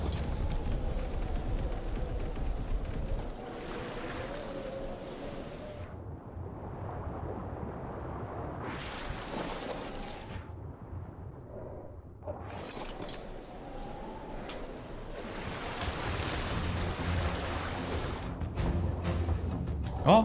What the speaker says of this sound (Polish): O nie, wichura się zaczęła.